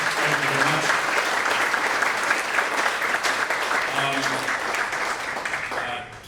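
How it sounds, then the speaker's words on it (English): Sustained audience applause at a GO Foundation launch event, steady and full throughout, with faint voices mixed into the crowd before it tapers slightly at the end. "So can I please give a round of applause,"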